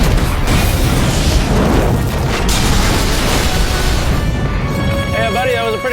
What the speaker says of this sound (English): that was a pretty big explosion